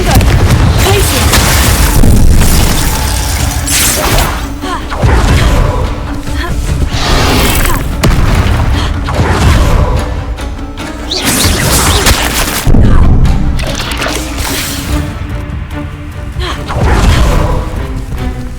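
Confringo fire-blast spells go off repeatedly in a Hogwarts Legacy combat scene, producing loud, dense booms, crashes and whooshes that keep coming in close, overlapping waves.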